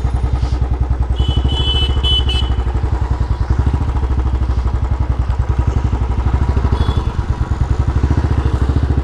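A Royal Enfield motorcycle engine idles loud and close with a steady, rapid thumping beat that holds evenly throughout, with a faint high whine briefly above it.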